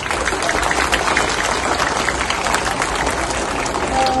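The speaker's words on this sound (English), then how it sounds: "Can we have a huge round of applause?" Students at a school calligraphy session break into loud, dense applause, a full crowd of clapping that stays strong and unbroken throughout, with faint voices mixed in.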